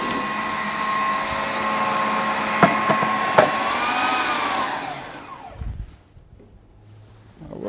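A kitchen blender whirs steadily while pureeing spinach for a vegetarian spinach and green herb gnocchi, a loud continuous motor drone with a couple of brief knocks before it winds down and stops near the end.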